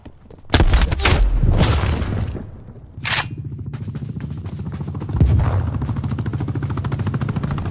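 A grenade explodes in Call of Duty Cold War, giving a loud, close boom with a long rumbling tail, followed by a second blast and gunfire-like rattling under game noise.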